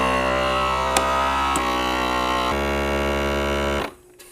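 A jar vacuum sealer pumps air out of a jar of dried green onions, giving a steady, close motor hum with a buzzing tone that runs alone for several seconds and then cuts off abruptly near the end.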